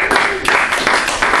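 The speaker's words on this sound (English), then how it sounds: "Give them a round of applause" An audience bursts into applause, a dense, loud wash of clapping in pulsing waves with voices mixed in beneath it.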